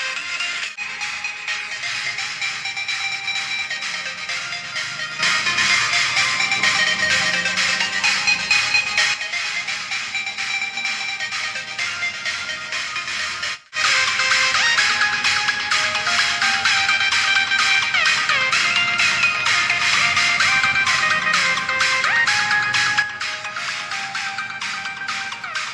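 Music played through a DIY 6283 IC bass amplifier board (bass X4) runs loud and steady, with a brief dropout midway and no voices.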